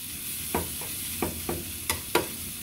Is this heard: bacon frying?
yes